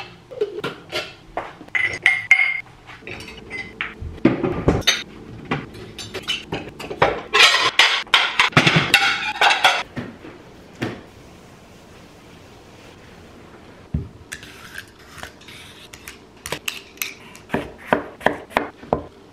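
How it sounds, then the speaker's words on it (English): Dishes and cutlery being unloaded from a dishwasher: repeated close clinks, clatters and knocks of plates and silverware, busy in bursts with quieter pauses, no talking. "So I'm gonna empty the dishwasher and just get ahead of this."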